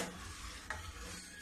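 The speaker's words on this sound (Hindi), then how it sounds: "इसी प्रकार धीमी गैस में चलाते रहूंगी, पकाते रहूंगी।" Milk for mishti doi is stirred in a pan over a low gas flame: a soft, continuous scraping swish with a faint simmering sizzle underneath and one brief clink midway.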